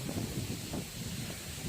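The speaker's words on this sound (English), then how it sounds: "A little windy, wind's picked up" Wind gusts past a hunter perched high in a tree stand on public land during deer season, a steady low rushing roar with surging swells, close to the microphone and with no talk.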